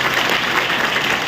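An audience claps loudly and steadily for a guest at a college event, a dense, even burst of applause with no voices on top.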